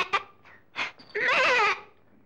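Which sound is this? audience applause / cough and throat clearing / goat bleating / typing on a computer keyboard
goat bleating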